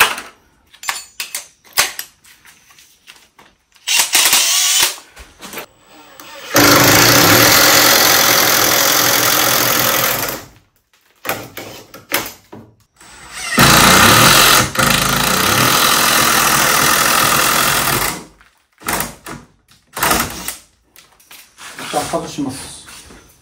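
An impact drill with a 24mm bit bores a large hole for switch and outlet box wiring during an old Japanese house renovation, roaring in two long, loud bursts of several seconds each, with speech and handling noises in the quieter gaps.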